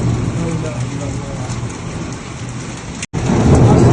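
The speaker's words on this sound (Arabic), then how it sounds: "صواعق رعدية عنيفة الآن مع أمطار غزيرة بالتحديد السودة." Heavy rain pours down in a violent thunderstorm, a dense, loud hiss of rain on surfaces with deep rolling thunder beneath, broken by one brief dropout before the downpour resumes just as strong.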